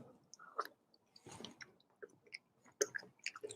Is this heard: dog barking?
no